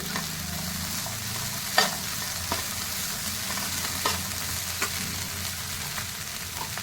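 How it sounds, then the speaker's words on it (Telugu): Curry leaves fry in hot oil with a steady, close sizzle, broken by a few sharp pops and stirring clicks over about seven seconds. "ఒక సెకండ్ ఆయిల్లో వేయాక కొంచెం కరివేపాకు,"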